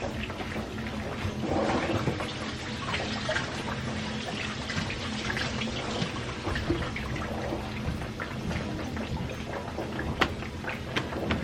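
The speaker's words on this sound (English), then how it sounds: "let me rinse these again" Food being rinsed under a running kitchen tap, with steady splashing water pouring continuously and close by for the whole stretch, no talking.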